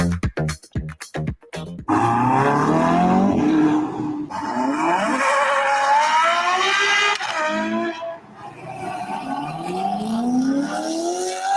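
A Ferrari engine revs loudly, its note sweeping up and down in long smooth rises and falls after a few sharp, choppy bursts at the start.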